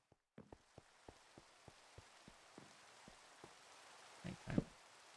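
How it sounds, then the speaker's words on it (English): Rain falling in the Minecraft video game, a steady soft wash with scattered sharp droplet ticks, fairly quiet, followed near the end by a short louder rustling burst. "Sleep away the rain here for a second."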